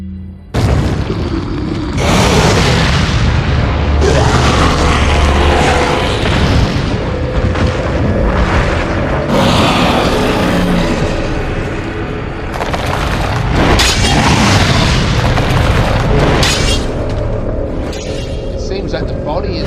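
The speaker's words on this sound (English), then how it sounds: "I'm going to equip the hand grenade. And now the incendiary grenade." Hand grenades and incendiary grenades detonate in a video game, producing loud, sustained booming blasts and rumbling bursts that fill the mix, with a voice talking over them.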